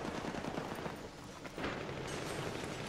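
Rapid M4 rifle gunfire in Battlefield 3, a quick burst of sharp shots that thins briefly before the firing picks back up, with no talk over it.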